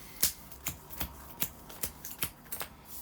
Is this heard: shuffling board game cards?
yes